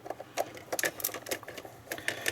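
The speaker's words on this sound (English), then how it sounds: "So let's take the next 2 screws out" Screws are being removed from a Playmates USS Voyager toy starship, heard as a rapid run of small close ticks and clicks from a screwdriver turning in plastic, with no speech.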